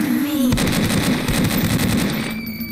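Rapid gunfire bursts from the horror video game Slenderina Must Die ring out loud and close, a dense run of repeated shots over a steady low game drone for most of the span.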